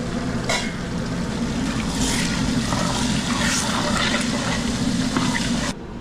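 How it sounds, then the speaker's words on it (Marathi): Water is poured steadily into a pan for wedding-style upma with fried green peas, a continuous splashing, gushing fill that runs loud for about six seconds and then cuts off abruptly near the end. "मित्रांनो, यात टाकून घेऊया पाणी"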